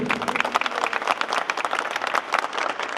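Applause for champions at a friendly match for disabled athletes in Balıkesir, a lively, uneven patter of many hands with distinct individual claps, fairly close and steady for three seconds.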